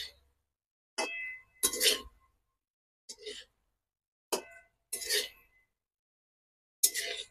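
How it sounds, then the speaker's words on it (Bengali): Fried pointed gourd being stirred into a spice paste in a pan for potol korma, heard as a few sparse, brief clinks and scrapes of a utensil against the cookware, separated by silence. "এই ভেজে রাখা পটলগুলো আমি এই মশলার গায়ে মিশিয়ে দিই"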